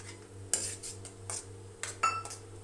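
A metal spoon stirs masala and green peas in a pan for cauliflower sabzi, making a few separate scraping clinks over a low steady hum with quiet gaps between them.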